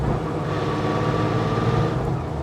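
A 1995 Porsche 911 993 Carrera RS 3.8 Clubsport engine pulling steadily at high revs from inside the car, a loud continuous drone with no clear gear-change breaks.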